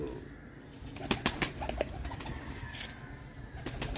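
Pedigree pigeons, mostly golden types, coo inside a wire-mesh enclosure, a run of soft throaty coos and clicks near the start and middle, with faint wing rustles, close and moderately quiet.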